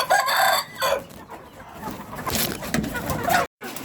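Egyptian Fayoumi chickens on a rooftop farm cluck and crow close by, with overlapping bird calls, some louder crowing near the start and a brief dropout near the end.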